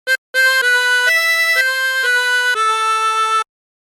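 Tremolo harmonica playing a short phrase of Bella Ciao: seven sustained reedy notes with a wavering, shimmering tone, close and alone after a brief opening blip.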